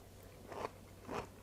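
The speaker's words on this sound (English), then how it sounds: "Perfect crunch." Two crisp bites into crunchy broccoli from a homemade chicken and broccoli stir fry with grated ginger, each a short close crunch, spaced about half a second apart, with no talking.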